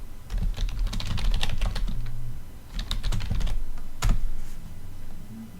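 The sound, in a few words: typing on a computer keyboard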